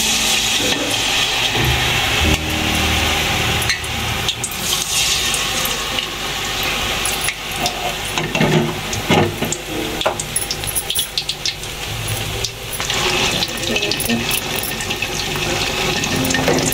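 Eggplant slices coated in gram flour batter fry in a pan, giving a dense, steady, hissing sizzle that carries on without pause for the whole stretch, with no voices.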